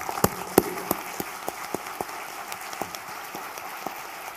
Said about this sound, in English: So please give Jim a big applause.